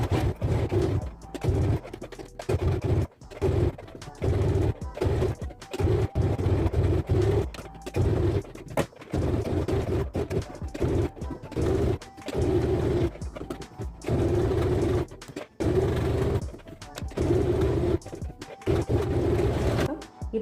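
A sewing machine stitches along a scallop marking on a blouse back in bursts of rapid mechanical chatter, stopping and starting repeatedly for about twenty seconds.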